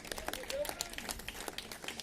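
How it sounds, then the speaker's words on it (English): Audience applause at an EV charging announcement event, a steady patter of many hands clapping, moderately loud and continuous throughout. "Please, round of applause for them."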